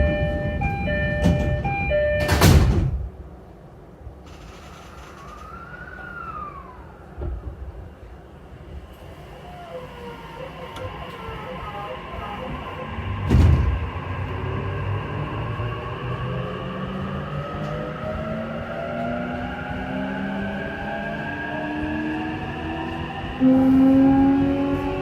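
A JR E233 series five-car train on the Tokaido Line, bound for Atami, gives a loud door chime and thumping doors closing, then the motors whine and climb in pitch as the train pulls away and runs steadily.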